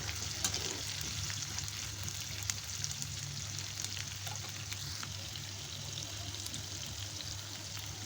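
Prawns with their roe fry in a pan while being stirred, a steady close sizzle with a constant low hum underneath and light scraping touches throughout.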